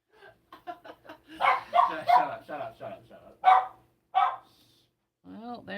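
A dog barks in a string of short, sharp yaps and bow-wows, fairly close, mixed in with and partly under a woman's speech at a home setting during a livestream.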